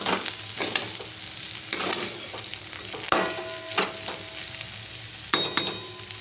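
Street-style chow mein sizzles and fries in a pan after sugar is added, with intermittent scraping stirs of the spatula at an irregular rhythm over a constant low sizzle.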